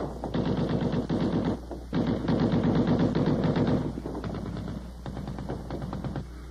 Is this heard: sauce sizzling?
no